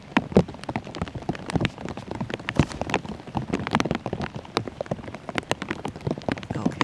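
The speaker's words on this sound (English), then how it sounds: "it's now just pouring rain on the competitors" Heavy rain pours down on a disc golf course during a tournament round, a dense, steady patter of close drops striking surfaces with scattered sharper splats throughout.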